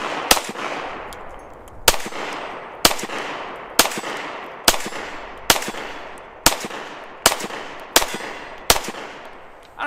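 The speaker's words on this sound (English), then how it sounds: "I don't know if you guys can hear that, but I'm shooting at a steel plate." A Ruger-57 pistol fires 5.7 rounds at a steel plate outdoors, about a dozen sharp, loud shots spaced evenly roughly one per second, each with a ringing decay.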